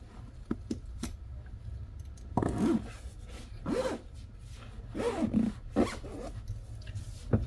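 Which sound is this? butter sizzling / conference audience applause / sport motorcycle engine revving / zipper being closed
zipper being closed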